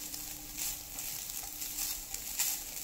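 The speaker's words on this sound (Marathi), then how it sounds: "आता इथे आपल्याला पूर्ण नारळ ड्राय होईपर्यंत खोबरं हे भाजून घ्यायचं आहे।" Grated coconut dry-roasting in a pan over a medium flame, a faint, steady sizzle and light patter with soft stirring scrapes, close and quiet with no talk.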